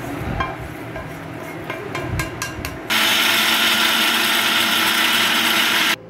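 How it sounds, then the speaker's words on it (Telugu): A kitchen mixer grinder whirs loud and steady for about three seconds as it grinds low-flame roasted spices into sambar powder, then cuts off abruptly, after some clattering and handling noises. "మిక్సీలో వేసుకొని మెత్తగా గ్రైండ్ చేసుకున్నాక సాంబార్ పొడి రెడీ."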